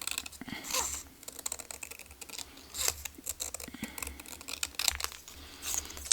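Scissors snip away excess paper from a mixed media art journal page, a series of crisp close cuts and light paper rustles in irregular bursts, with no voice.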